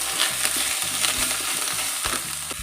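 Garlic, green chilli, coriander and freshly grated coconut being sautéed in a pan, a close steady sizzle broken by repeated rhythmic stirring scrapes, with no talking.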